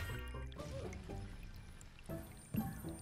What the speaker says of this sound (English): it does have this water sound to it, raining sound